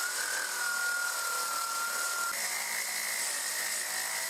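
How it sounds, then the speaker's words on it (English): A high-speed brushless motor spins a 40:1 worm drive reduction gearbox on a test bench for a dual outboard RC boat, a steady high-pitched whine that shifts pitch slightly midway, running alone and loud throughout. "This is a high-speed brushless motor connected to a warm drive reduction gearbox."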